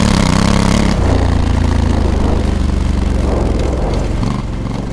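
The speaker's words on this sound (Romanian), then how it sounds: "Complet altă motocicletă." A Honda Africa Twin or Transalp motorcycle engine runs steadily and loudly close by during an easy off-road ride, a continuous mid-pitched drone with a slight shift in tone partway through.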